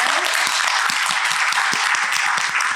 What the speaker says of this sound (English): And Linda, we want to give you a round of applause.